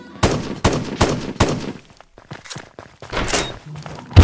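Close, punchy gunshots from a video game weapon, an assault rifle or shotgun. Several sharp shots fire in quick bursts, then come a pause and a few more blasts.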